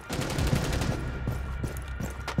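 SMG-12 submachine gun firing in Rainbow Six Siege, with rapid, loud automatic bursts rattling steadily close by for the whole stretch.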